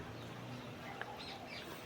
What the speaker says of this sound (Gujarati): મસ્ત અત્યારે પક્ષી બોલે છે